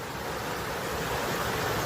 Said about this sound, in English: That's a lot of white water.